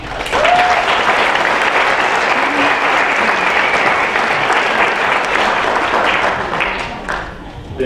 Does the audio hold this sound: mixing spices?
no